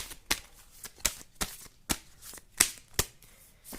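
Tarot cards are shuffled and drawn by hand. About eight crisp, close riffling snaps come in an uneven rhythm over a quiet background, with no talking.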